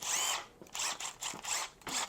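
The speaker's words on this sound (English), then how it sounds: "Nobody ever just picks up a drill and doesn't do that." Handheld power drill used while winterizing an RV, revved in four or five short bursts with brief pauses between them, loud and close with a whirring motor whine.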